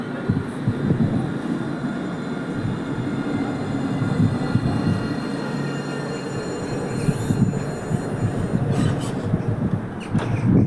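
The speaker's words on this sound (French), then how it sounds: "Et de l'autre côté, nous avons la ligne 3 qui arrive." A Montpellier TAM line 3 tram pulls into the Mosson terminus, its steady low rumble and rolling wheel noise filling the track, with brief high squeals near the end, no talking.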